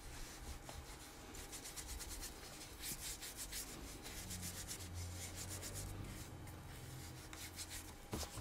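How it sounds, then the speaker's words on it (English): Cloth wiping urushi lacquer over wood in the fukiurushi technique, a soft steady rubbing with rhythmic strokes, faint and close with no voices. "The urushi is wiped thoroughly with a cloth to ensure that it has been applied evenly."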